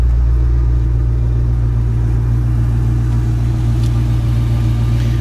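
A 1973 Ford Gran Torino engine idling, a loud, steady low rumble with an even, smooth tone throughout and no talking.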